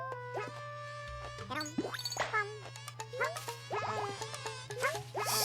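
Small cartoon bees buzzing in the Yoshi and the Mysterious Book video game, a steady insect drone running beneath bright chiming game music and quick sound effects, with no talking.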